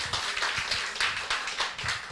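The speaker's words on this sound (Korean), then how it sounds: "박수 쳐주세요" A small group claps in a church children's gathering after a closing prayer, a brief run of rhythmic, fairly quiet handclaps in loose pulses.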